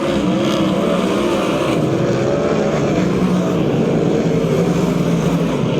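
USAC/CRA sprint cars race at Perris, California, a loud, steady engine roar filling the whole stretch, with several cars' motors blending and rising and falling slightly as the pack circles the track.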